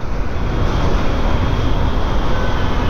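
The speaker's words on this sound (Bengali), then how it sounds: "আর পাশ দিয়ে ট্রেন যাচ্ছে" A train passes close by under a cloudy sky just before rain, giving a loud, continuous rumbling roar of wheels and carriages with no voices over it.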